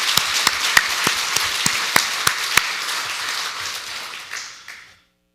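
Congregation in a church clapping to give glory to God during an evening of praise and testimony, a burst of applause with a few sharp individual claps standing out, fading away near the end.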